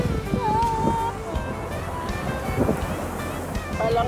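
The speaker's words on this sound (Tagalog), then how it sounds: "Lakas pa ng alon, maano pa, mataas pa yung tubig." Strong sea waves surge and wash onto a shore where people collect sea glass, a steady loud rush of surf and wind with brief voices over it.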